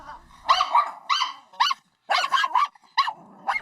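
A dog barking at a stranger, close and loud, in rapid clusters of sharp barks with brief growly breaks between them.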